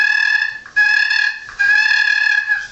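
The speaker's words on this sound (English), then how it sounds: "Just simple clucks and yelps, brings them right in." A turkey friction call sounds three loud, tonal clucking yelps in a row, each sustained and bright, with brief gaps between them and no talking.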